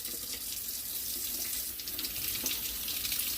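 A tap runs steadily into a container being rinsed out, a continuous close splashing hiss of water with slight shifts as the flow hits the container.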